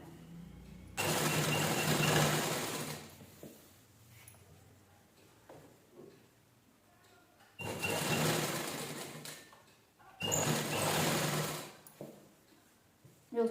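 Sewing machine stitching a sequinned saree into a door curtain, running in three loud bursts of steady whirring separated by quieter pauses with light handling noise.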